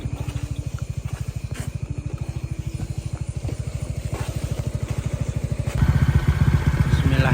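A motorcycle on a long night touring ride idles after being started, a close, steady rapid putter of engine pulses that grows louder and rougher as the revs rise near the end.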